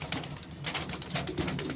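Kalanka pigeons coo in low bursts amid busy rustling and scattered sharp clicks and flutters, close and fairly loud over a short stretch.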